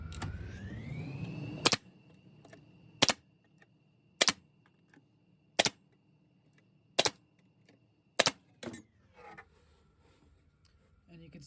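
A nail gun fires nails into reclaimed redwood while a toolbox is assembled, giving six sharp, evenly spaced shots close by after a brief rising whine, with some faint handling noise afterward.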